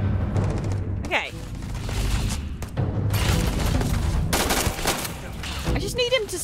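Rapid gunfire bursts from the player's gun in the space game Starfield crackle in repeated volleys between quieter gaps, loud and close, with a voice talking over parts of it.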